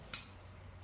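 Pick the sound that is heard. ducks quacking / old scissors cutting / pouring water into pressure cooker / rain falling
old scissors cutting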